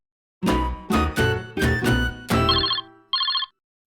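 Phone ringtone for an incoming call, a melodic sequence of six bright tones followed by two short buzzing chirps, clear and close with no talking.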